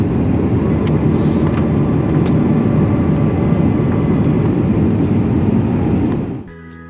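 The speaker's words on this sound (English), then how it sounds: "we came in for a landing" Steady loud roar of a Frontier Airlines airplane cabin on landing approach with flaps extended, a constant low engine and air rumble that drops off abruptly near the end.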